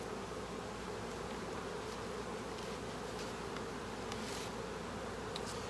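Honeybee colony buzzing at an opened hive, a dense, steady drone from many bees close by, with occasional individual bees flying past the microphone.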